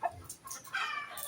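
A few short, close chicken clucks in quick, irregular succession, with no talking.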